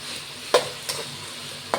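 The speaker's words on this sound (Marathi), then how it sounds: "आता आपण याच्यात वटाणे ॲड करत आहे तेलामध्ये" Green peas fry in hot oil in a pan for masala rice with a steady close sizzle. A few sharp scrapes of stirring break through.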